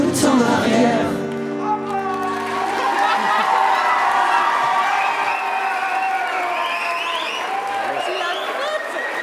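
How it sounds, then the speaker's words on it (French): A school audience gives sustained applause mixed with cheering and shouts after a performance with students of Lycée Audouin Dubreuil in Saint Jean d'Angély, the crowd noise steady and full throughout. "Je crois qu'ils méritent vraiment un tonnerre d'applaudissements."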